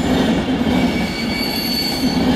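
Virgin Pendolino class 390 electric train departing London Euston, a loud close rolling rumble with wheel squeal and faint high whining tones, steady throughout with no voices.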